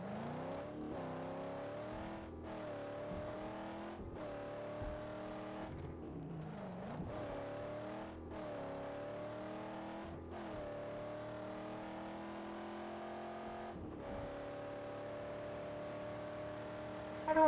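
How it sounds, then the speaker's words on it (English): A car engine in Mad Max revs hard through a string of gear changes, each climb in pitch cut by a brief shift, loud and continuous. "I love the engine noises in this game"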